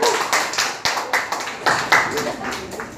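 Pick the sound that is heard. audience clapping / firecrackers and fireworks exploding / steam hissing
audience clapping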